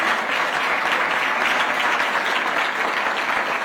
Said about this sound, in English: Please, let's give a warm round of applause